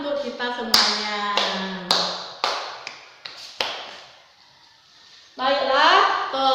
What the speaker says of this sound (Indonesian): Mari kita tepuk tangan untuk kita semuanya.